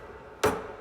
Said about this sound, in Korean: 망치질 소리에 저는 정신이 들었어요